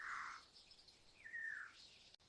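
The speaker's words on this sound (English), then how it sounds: "Maybe a little bird. It sounds like it needs help." A small bird chirps on a farm, giving a couple of thin, faint high calls with a short rising-falling whistle, heard alone against quiet outdoor background.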